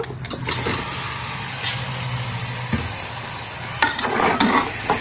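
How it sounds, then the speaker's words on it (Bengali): Meat stirred and sautéed in a pan for Bengali mutton kosha makes a steady low sizzle and scraping, with a few sharper knocks of the spoon against the pan. "এবার আমি মাংসটা দিয়ে দেবো মাংসটা দিয়ে দিয়ে খুব ভালো করে কষিয়ে নেব"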